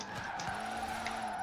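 A car drifts on mixed road surfaces in Forza Horizon 4, with a steady, fairly quiet tire squeal holding over the hum of the engine.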